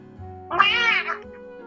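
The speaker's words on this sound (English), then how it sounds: "I'll just put a sound effect of a meow." A single cat meow played as a sound effect, a short rising-and-falling tonal cry lasting under a second over a faint steady background hum.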